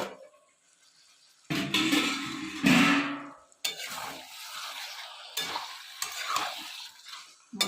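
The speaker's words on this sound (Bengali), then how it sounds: "এবার এটা একটু কষবো" Jackfruit curry (echor) being stirred and sautéed in a pan, with bursts of sizzling frying and scraping of a spatula against the pan in uneven strokes, close and fairly loud, with quieter pauses between stirs.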